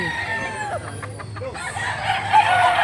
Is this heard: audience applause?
no